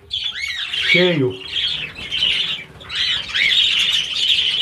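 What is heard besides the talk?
budgerigars chirping in an aviary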